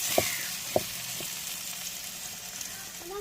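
Onion, tomato and garlic sauté in hot oil with a steady low sizzle, broken by a couple of sharp utensil clicks near the start and a faint scrape toward the end; no one speaks.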